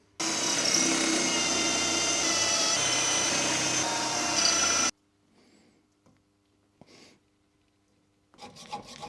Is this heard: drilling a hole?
yes